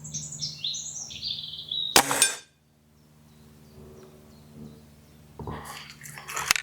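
A pellet from a TX200 air rifle strikes a steel target outdoors with a single sharp metallic clang and a brief ring. Birds chirp faintly before the hit, and a few clattery sounds follow.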